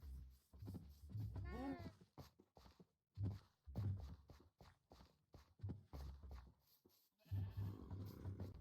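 Blocky video-game sheep bleat several times in short wavering calls, mixed with footsteps and other game sounds, fairly close and moderately loud.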